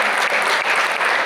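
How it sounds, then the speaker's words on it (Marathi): Audience applauding a singer, Chetan, a classically trained vocalist from Nashik, at a stage performance; dense, steady clapping fills the whole moment at close range with no voices. "एकदा जोरदार टाळ्या चेतनसाठी"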